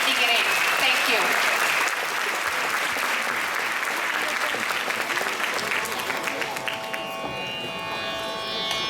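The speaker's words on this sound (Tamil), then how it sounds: "உங்கள் கரகோஷத்தால் வாழ்த்து சொல்லி வரவேற்க வேண்டுகிறேன்" A hall audience applauds in welcome for a choir at a Thyagaraja Aradhana concert, full clapping at first then easing off, with a sustained tonal note emerging toward the end.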